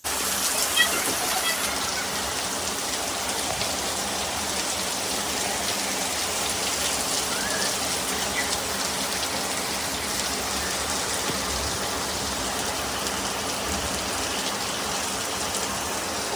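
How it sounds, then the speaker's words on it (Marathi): Steady, heavy rainfall hisses continuously throughout, a dense even wash of drops on surfaces with no pauses. "पाऊस पडतो आणखी पाऊस पडतो"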